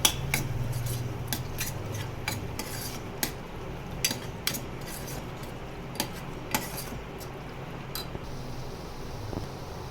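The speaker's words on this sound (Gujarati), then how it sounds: "હવે આમાં આપણે નાખશું 10 મિનિટ પલાળેલી અડધો કપ મેં મસૂરની દાળ પલાળી છે તે નાખશું। અને હલાવી લઈશું।" Soaked masoor dal is tipped into a pressure cooker and stirred with a metal spoon, giving scattered clinks and scrapes against the steel at close range over a steady low hiss, with no talking.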